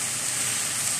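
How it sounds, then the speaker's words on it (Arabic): Chopped onions fry in hot oil for a spicy dish, a steady, close, bright sizzling hiss that holds evenly for about a second with no talk. "عندنا البصل في الزيت"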